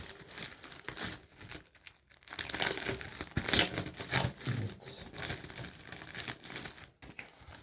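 Panini FIFA 365 2022 sticker packets being torn open, a busy run of close crinkling and tearing foil wrappers with brief pauses between packets.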